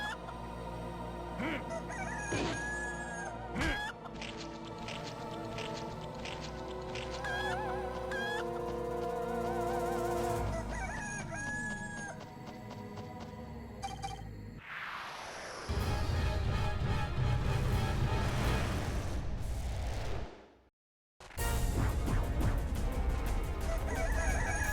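Glowing rooster in the Altered Beast video game on PlayStation 2, with fowl-like clucking and crowing calls among busy game music and effects, loud and continuous with a brief dropout near the end.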